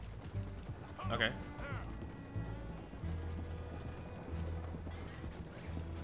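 Hooves clip-clop in a rhythmic patter with a horse's whinny early on, amid game sounds and background noise in Red Dead Redemption 2.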